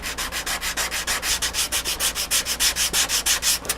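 Filler on a Sig Kougar model wing fairing is sanded by hand in quick, steady back-and-forth strokes, about five per second, close up and fairly loud with no voices.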